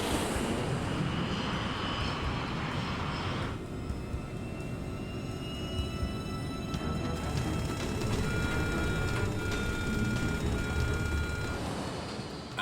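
Airliner engines roar steadily through a takeoff roll on the runway, a loud broadband drone holding throughout with high whining tones rising near the end, as warning beeps begin sounding.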